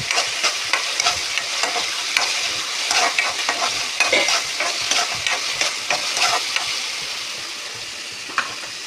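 Onions fry in oil in a home kitchen while a fish curry is being made, giving a steady loud sizzle broken by frequent crackles and stirring clatter across the whole stretch, with no talking.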